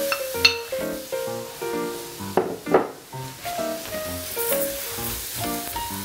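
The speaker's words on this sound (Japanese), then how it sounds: "じゃあお米も炒めます" Rice stirred and frying in olive oil with softened onion for a porcini risotto, a soft sizzle broken by scraping stirs and spoon knocks against the pan, close and without talk.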